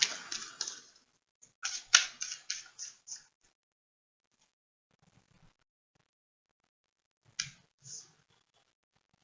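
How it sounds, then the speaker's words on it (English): Tarot cards pulled from a deck: a quick run of crisp shuffling snaps and flicks up close, then quiet, then two more brief card flicks near the end. "Let me pull another card just to clarify that."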